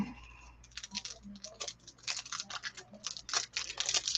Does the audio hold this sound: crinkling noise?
yes